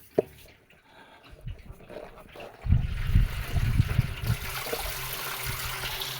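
Water gushes and splashes steadily into barrels, growing louder after a quieter start with a few drips and clunks; cold artesian water from underground.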